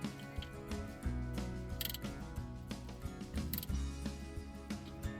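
A ratchet wrench tightens bolts on the clutch of a Suzuki Jimny JB74, giving close, quiet mechanical ratcheting clicks with a few sharper metallic knocks, and no speech.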